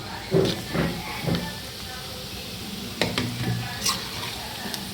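Broiler chicken pieces frying in a pan for a pachadi, with a steady sizzle and hiss broken by several stirring scrapes and clatters near the start and again later.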